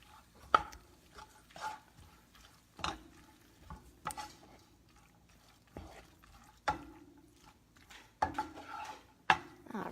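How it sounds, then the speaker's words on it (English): A utensil stirs cheese into warm lasagna filling of asparagus, spinach and arugula in a pot, making sparse, separate scrapes and knocks against the pot with quiet gaps between them. "Just give that a good stir so everything's mixed in and incorporated."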